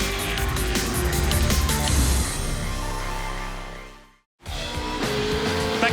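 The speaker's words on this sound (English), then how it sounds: "we're riding on board with Rodney Jane, 777 Ford" Onboard a 777 Ford V8 Supercar racing at Bathurst in the 2013 Dunlop Series, the loud engine roars and winds down, with a brief cut before the engine noise returns.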